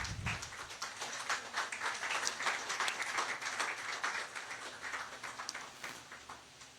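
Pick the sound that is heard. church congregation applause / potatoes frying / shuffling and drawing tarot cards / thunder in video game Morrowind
church congregation applause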